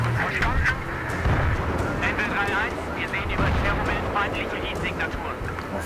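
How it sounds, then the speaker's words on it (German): Gunfire and explosions from a desert tank battle in the Battlefield 3 campaign, rumbling bursts and booms under steady commentary from someone speaking German, with the combat noise continuous beneath his voice. "Auf wen oder was schießen die denn jetzt?"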